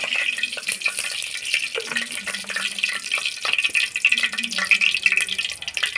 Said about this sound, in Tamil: சோம்பு மட்டும் போட்டுக்கோங்க தாளிக்கிறதுக்கு